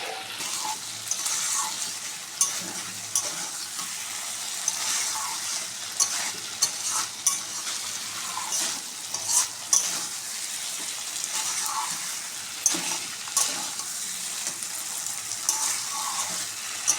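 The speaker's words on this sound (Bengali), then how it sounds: "এটাকে একবার ঢেকে ঢেকে কষিয়ে নেব তাহলে মশলাটা ঢুকবে পটলের ভিতরে" Potato and pointed gourd curry with spices being sautéed in a covered pan, giving a steady close sizzle with frequent stirring scrapes and clinks throughout.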